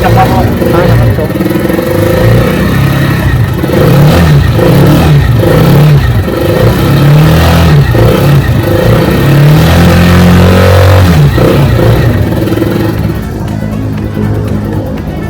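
RUSI Chariot 175 motorcycle engine running on choke, loud and close, with an uneven idle and repeated revving surges and clattering mechanical noise throughout.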